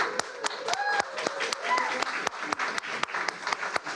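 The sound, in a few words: audience applause at a board meeting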